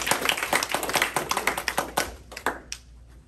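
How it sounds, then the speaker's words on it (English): An audience in a lecture room claps, a brisk scattered round of applause from a modest crowd that thins out and stops after a few seconds. "Let's first get a round of applause."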